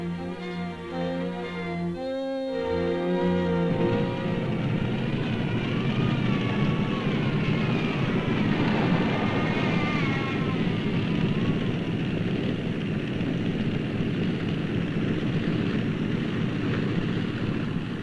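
Piston engines of a B-29 bomber drone loudly and steadily at close range, a broad sustained roar with a throbbing rise after a brief rough start, carrying on without pause.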